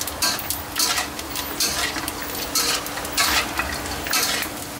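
Pork cracklings frying in a shallow amount of hot oil, puffing up as they cook: a steady, dense sizzle with crackling pops throughout, alongside stirring and occasional scrapes and clinks of a utensil against the pan, close and continuous.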